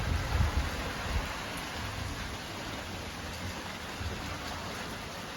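Steady summer rain falling at a country cottage, a soft continuous hiss with occasional low rumbles beneath it, no voices.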